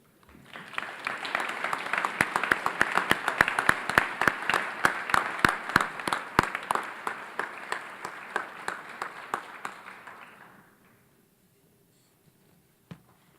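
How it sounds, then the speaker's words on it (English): An audience at an academic excellence awards ceremony applauds student athletes, a dense burst of clapping that builds quickly, holds for about ten seconds, then thins out and stops, leaving near silence and one last stray clap. "Let's give these athletes another great big round of applause"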